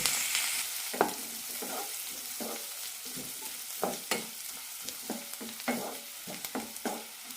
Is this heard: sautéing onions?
yes